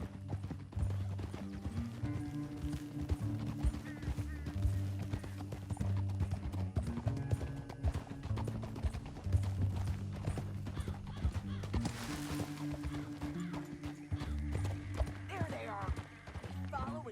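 Rhythmic clip-clop of a horse's hooves at a steady walk in the video game Red Dead Redemption 2, with a musical backdrop and occasional voices.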